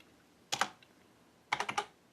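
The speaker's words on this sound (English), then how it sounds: "you come over here to your subnet mask, and you type in" Two short bursts of close computer keyboard typing enter a subnet mask, a quick pair of keystrokes followed a second later by a faster run of four clicks in a quiet room.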